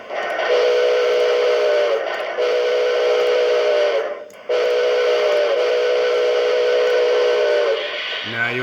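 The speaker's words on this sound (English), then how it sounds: "Now let's see what happens when I hit the whistle button." Model train whistle from a Proto 1 sound system, sounding in neutral: a steady chime-like electronic whistle held in two long blasts with a short break between, close and fairly loud.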